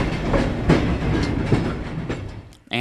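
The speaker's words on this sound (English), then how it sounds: "the train winds its way south at a leisurely pace" A passenger train rolls south along the rails at a leisurely pace, giving a steady loud rumble with rhythmic clickety-clack wheel beats.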